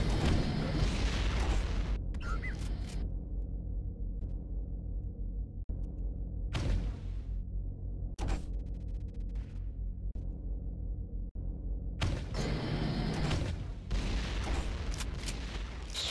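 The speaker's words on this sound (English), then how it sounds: "Grenade launcher." Grenade launcher blasts in a portal race video game map, several sharp booming explosions separated by quieter stretches, loud bursts at the start and end with isolated thuds between, and no talking.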